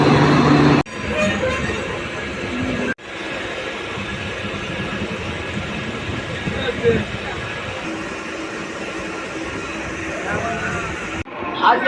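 The Dhauli Express passes through Santragachi station with a loud, continuous rolling rumble and rattle that holds for several seconds, broken by abrupt cuts, with voices faintly mixed in.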